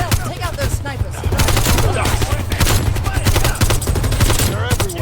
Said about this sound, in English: Control burst, Lazar. We're low on ammo.